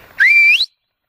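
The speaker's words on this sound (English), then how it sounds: "I'll give them one whistle." One sharp rising-and-falling whistle, loud and close and lasting under half a second, sounds as a recall signal for livestock guardian dogs, then silence.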